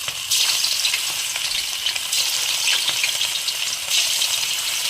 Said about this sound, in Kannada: ಹಾಕ್ಬೇಕಾದ್ರೆ ಲೋ ಫ್ಲೇಮ್ಗೆ ಹಾಕ್ಕೊಂಡು ಉಂಡೆಗಳು ಹಾಕೊಳ್ಳಿ